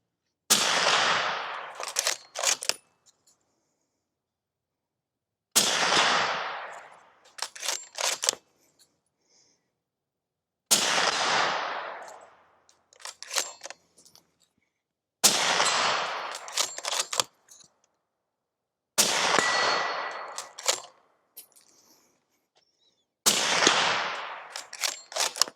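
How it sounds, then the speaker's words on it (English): Six loud suppressed gunshots from a rifle fitted with a Precision Armament TiTrex 360Ti suppressor, evenly spaced about four seconds apart, each a sharp report followed by clattering mechanical action noise. "this can sounds pretty darn good on this"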